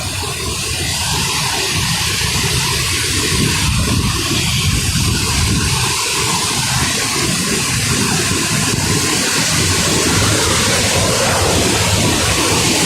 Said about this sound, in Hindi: ये कलकल ध्वनि।